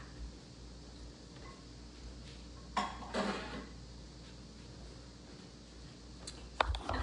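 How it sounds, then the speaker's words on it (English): A metal pan is dropped into a kitchen sink, giving a short clatter and a couple of clinks against a quiet, steady room hum with no one talking. "Let me just go drop this in the sink."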